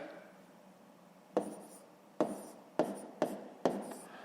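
Numbers written by hand during a fifth-grade long-division exercise: five sharp, separate pen or chalk strokes, close and fairly loud, spaced unevenly over a quiet background.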